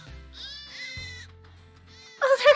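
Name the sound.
sheep rat creatures bleating in Grandia II video game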